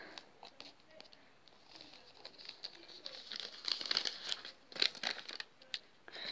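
Small parcel packaging, a tiny postal packet holding toy squishies, crinkles and tears as it is opened up close, with scattered soft rustles building into denser crackling bursts toward the end.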